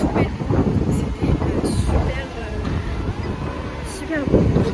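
Outdoors by a river in a city, wind gusts buffet the microphone in loud, rough, low rumbles that swell and fade across the whole stretch, with a voice talking underneath.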